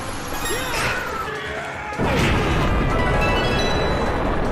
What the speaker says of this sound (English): Alright, I survived the explosion.